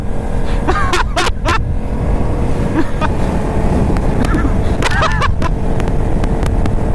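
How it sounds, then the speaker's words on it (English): Honda Grom motorcycle riding at about 55 mph, a loud continuous rush of engine drone and heavy wind buffeting on the microphone, with brief bursts of excited voices and laughter. "We're doing 55 on a Grom!"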